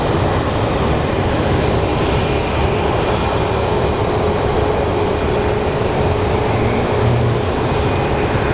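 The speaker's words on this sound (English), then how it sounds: "It's an Embraer." Embraer jet aircraft, built December 2021, at Phoenix Sky Harbor airport, producing a loud, steady broadband engine roar that holds constant throughout with no voices.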